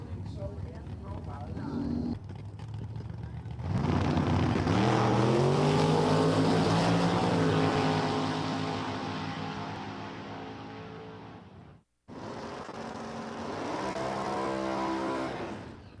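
Chevy Camaro drag car roaring at Empire Dragway, a loud engine note that climbs through the gears and fades, then a second surge of revving, with a track announcer talking over it.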